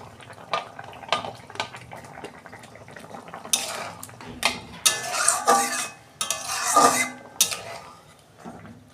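Eggplant pieces tip into a pot of boiled potatoes, with clattering utensil scrapes, knocks against the pot and a soft sizzle in bursts, loud and close.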